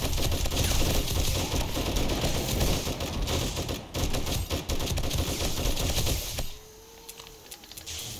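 Sustained rapid automatic gunfire in 7 Days to Die during a horde night base defense, loud and continuous for about six seconds before cutting off, leaving only faint scattered clicks.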